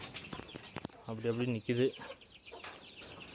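Chickens cluck in short bursts close by, with a couple of drawn-out clucks in the middle, while a person speaks briefly in Tamil over them.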